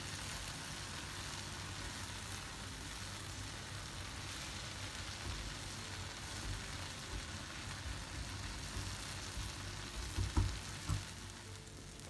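Okra fries in butter in a pan, giving a continuous gentle sizzle with light crackles and a few louder pops near the end, close and steady without talk.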